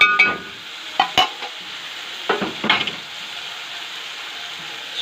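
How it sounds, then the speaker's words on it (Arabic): Onions being stirred in hot oil in a pan while frying for a Sayadieh-style fish dish, soft scraping strokes in brief bursts over a low steady sizzle. "نقلب البصله كده لما تتشمع بالماده الدهنيه بالزيت كده"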